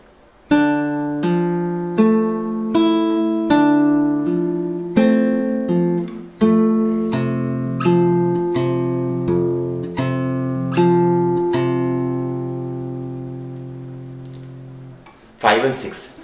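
Close, clear fingerstyle guitar picks out a Kung Fu Panda theme, plucked notes ringing into a held chord that fades before a short scrape at the very end.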